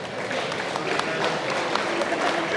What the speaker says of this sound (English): Let's give a round of applause for the weather.